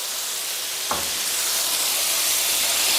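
Canned fish frying in a pan with garlic and shallots, a steady broad sizzle and hiss that holds even and close throughout, with a brief tap of the utensil near the start.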